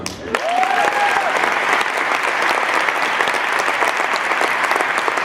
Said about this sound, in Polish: Bardzo was proszę o symboliczne oklaski.